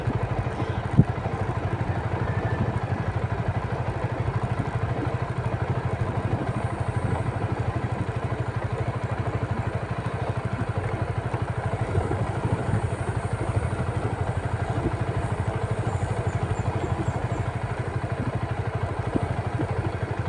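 A motorcycle engine runs steadily and loudly close by on a steep, winding road, holding a continuous rumbling drone without pauses for about twenty seconds.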